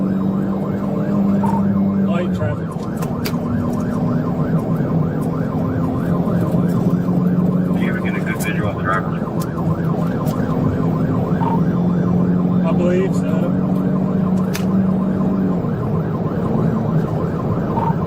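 Police car sirens wail continuously during a high-speed car chase on a motorway, their rising and falling tones loud and steady throughout, with traffic noise and occasional voices underneath.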